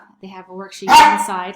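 A pet dog barks in a room, a sharp loud bark bursting in the middle of a woman's speech, with her talking before and after it.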